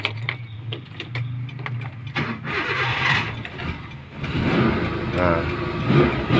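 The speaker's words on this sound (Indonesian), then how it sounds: "kita langsung coba nyalain mesinnya ya bosyo ya, buat kalian yang penasaran suara mesinnya" A Suzuki Katana GX 97 4x4 engine cranks and catches, then settles into a rough mid-pitched idle that builds slightly, close by with someone talking over it.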